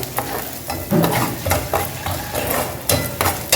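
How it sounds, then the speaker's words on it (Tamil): Mint chutney ingredients with rock salt sauté lightly in a pan, a steady sizzle broken by repeated scraping stirs every half second or so, close and fairly loud with no talking. "சும்மா லைட்டாக வதங்கினா போதும் ரொம்ப வதங்கிறது தேவையில்லை"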